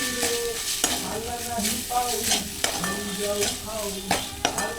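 Spinach recipe ingredients roasting in a pan, with a constant sizzle and repeated scraping strokes of a spoon stirring them, close and fairly loud with no voices.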